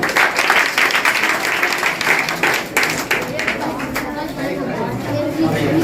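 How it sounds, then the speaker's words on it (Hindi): An audience at a general knowledge competition prize ceremony claps as names are read out. The scattered clapping comes under a steady stream of talk and fades out toward the end. "तालियां बजाओ भाई"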